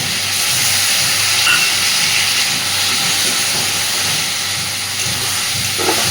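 Ginger garlic paste sizzles loudly in a hot pan, a dense, continuous hiss that stays close and steady with small crackles, and no talking over it.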